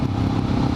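A Suzuki DR650 supermoto engine runs with a steady close throbbing single-cylinder rumble over a brief moment, loud and alone.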